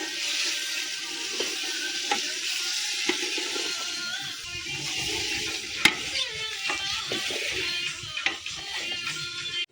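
Meat fries in a large cooking pot at an outdoor village feast, giving a steady hissing sizzle with intermittent scrapes and knocks of stirring.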